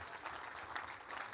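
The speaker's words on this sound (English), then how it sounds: "please keep clapping" An audience claps together for a speaker coming up to the stage, a brief, faint patter of steady applause heard from a distance.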